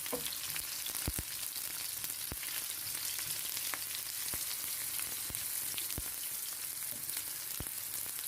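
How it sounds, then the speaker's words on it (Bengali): Chopped onion, garlic and a pinch of salt sizzle in hot oil, with a dense, even frying hiss and sharp crackles and pops at irregular intervals, with no voices. "এর মধ্যে পেঁয়াজ, রসুন, একটু লবণ দিয়ে আমি ভুনে নিব যাতে পেঁয়াজটা যাতে নরম হয়ে যায়।"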